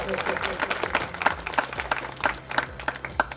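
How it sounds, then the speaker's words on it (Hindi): Applause welcoming a guest onstage at a community gathering, a thin scattering of individual claps of uneven rhythm, heard under someone speaking over a loudspeaker. "तालियां बजाकर स्वागत करें।"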